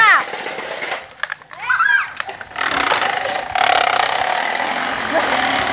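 Motorcycle fitted with a loud racing exhaust, revving hard with rising and falling throttle blips and a sustained raspy roar, close by and loud, with people talking and exclaiming over it.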